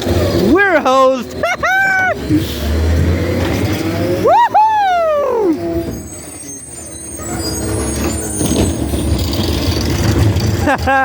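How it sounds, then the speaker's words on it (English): A recycling garbage truck in San Marcos drives past on its way to the recycling center, its loud, steady engine rumble filling the scene while voices whoop and cheer over it. "There goes the recycling truck to the recycling center"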